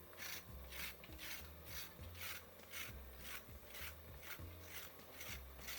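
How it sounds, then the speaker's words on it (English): A knife gently scrapes the skin of a snake gourd, making close, steady rasping strokes that repeat in an even rhythm of roughly two per second. "We just need to scrape them."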